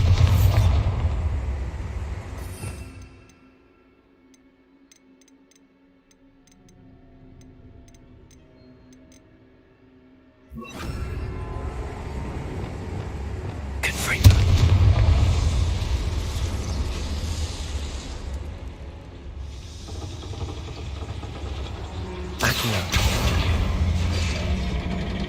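A Bombarda blast spell in Hogwarts Legacy sets off booming explosions with crashing debris, loud and close, separated by a quieter stretch of low rumble and ambient hum.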